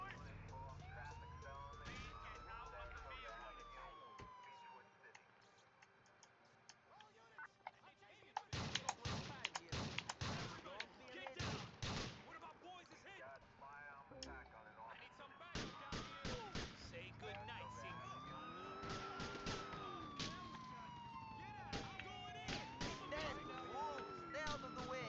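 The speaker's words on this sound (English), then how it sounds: "The siren's all messed up right now." Wailing police car siren from the video game GTA IV, rising and falling repeatedly through the scene, mixed with bursts of loud gunfire-like bangs and game noise, with someone talking intermittently over it.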